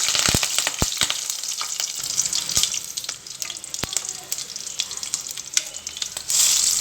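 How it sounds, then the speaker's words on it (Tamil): Mustard seeds, cumin and green chilli frying in hot oil for a mango pachadi, a steady close sizzle with sharp popping crackles throughout. "கொஞ்சமாக கடுகு, சீரகம், கடுகு பொரிஞ்சதும் நம்ம எடுத்து வச்சுருக்கிற பச்சை மிளகாய் ஆட் பண்ணிக்கலாம்"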